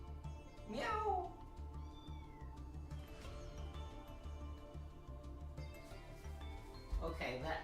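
Cats yowl and meow outside a door, drawn-out wavering cries near the start and end, faint and muffled beneath a person talking and background music.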